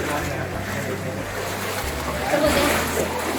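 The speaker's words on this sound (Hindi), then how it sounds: "नीचे बढ़िया पानी बह रहा है।" Water rushes steadily through the Guchchu Pani cave gorge, also called Robbers Cave, in Dehradun, making a continuous, fairly loud roar with voices heard faintly over it.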